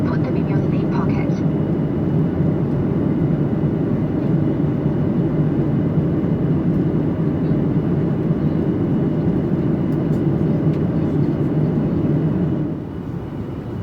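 Steady, loud cabin roar inside a Virgin Australia Boeing 737 descending into Gold Coast Airport, a broad low engine and airflow drone that holds evenly for the whole stretch and dips slightly at the very end.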